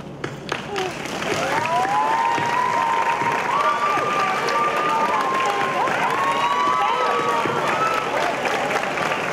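Audience applauding families at a middle school graduation, sustained loud clapping and cheering from a large crowd with shouts and whistle-like calls over nearly ten seconds.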